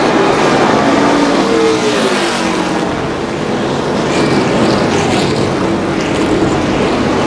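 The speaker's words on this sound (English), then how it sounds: "Listen to the fans roar as the cars come by the grandstand for the first time." Race cars pass the grandstand at the Pennsylvania 500 stock car race, a continuous loud engine roar with rising and falling passes blended with crowd noise.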